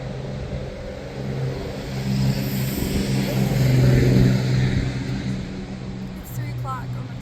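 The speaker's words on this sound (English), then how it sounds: "Why is your car so loud? Why are you making it louder?" A loud car revs as it drives past outside, its engine rumble swelling to a peak midway and then easing off, with a steady low hum underneath throughout.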